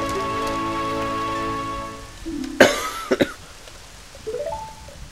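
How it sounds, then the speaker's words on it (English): Rain begins falling in the video game Zelda: Majora's Mask, a steady hiss of rainfall under game music, broken by a few short sharp effects partway through. "Oh, hey, look at that, it started raining."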